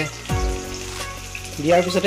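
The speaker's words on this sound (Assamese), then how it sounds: "পিয়াজখিনি লাহে লাহে কৰি তেলত গৰম তেলত ফ্ৰাই হ'বলৈ দিয়া হ'ল" Chopped onions frying in hot oil in a wok, a short burst of close sizzling with some tonal sounds mixed in.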